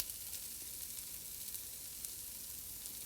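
Cumin seeds sizzling in hot fat for black bean chili, a soft even crackle that runs steadily with faint pops, fairly quiet and without any talk.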